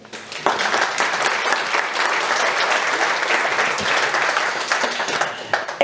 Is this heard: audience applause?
yes